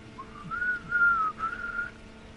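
A person whistles a short rising-then-level tune in three quick phrases, clear and close over a quiet background hum.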